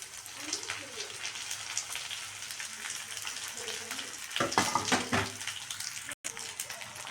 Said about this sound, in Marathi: मिरची छान असं फ्राय झाली आहे यात आपण शेवग्याची पानं टाकून घेऊया नीट केलेली